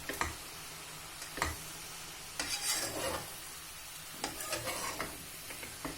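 Mushrooms and spices being stirred together in a pan for a courgette tart, with a soft sizzle underneath and several sharp scraping and clinking strokes of a utensil against the pan.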